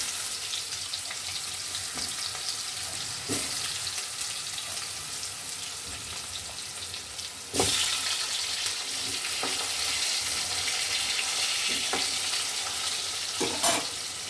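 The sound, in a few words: potatoes frying in a wok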